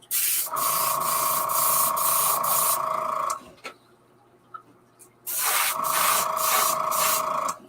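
Aerosol spray paint, a transparent white, hisses steadily over a stencil on a lipless crankbait lure with exposed foil, in two long close bursts separated by a short pause with faint handling clicks.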